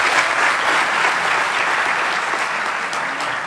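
Sustained applause from an audience at the opening of a sports week event in Settat, dense and even clapping throughout with no gaps.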